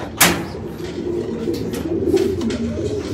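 Racing pigeons coo in a loft, a low murmuring burble running steadily under a sharp knock near the start, with faint rustling throughout.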